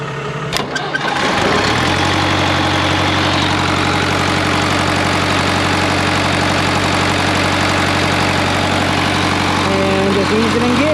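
A farm tractor engine cranks with a brief starter whir, catches and settles into a loud, steady, close idle that drones on evenly to the end.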